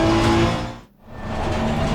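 Race car engines roar in Assetto Corsa Competizione during a league race, a loud sustained engine drone that dips briefly as a car passes and then swells back to full volume.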